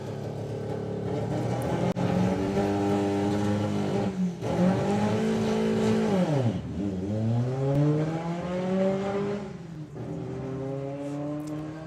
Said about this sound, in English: It's a car we don't normally see him driving though, this BW Beetle.